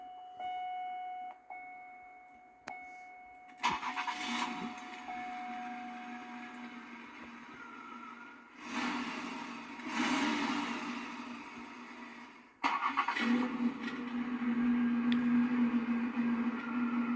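A 1991 Buick Park Avenue engine starting up, a crank that catches into a steady idle hum that rises and settles, heard close with no talk.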